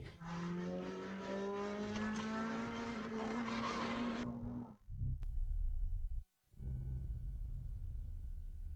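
Race cars drive hard on a track: a rising engine whine builds for several seconds, then gives way to a low roaring rumble with tire skids. The sound is fairly faint overall and has a brief dropout.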